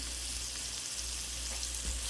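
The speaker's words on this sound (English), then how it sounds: "So I added some more butter, and you can see it sizzling." Salmon fillets fry in melted butter in a pan, sizzling steadily and close with a soft, continuous crackle and no talk.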